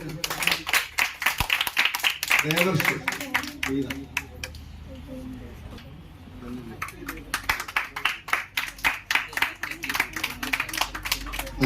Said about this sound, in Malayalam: കയ്യടി പോരാ.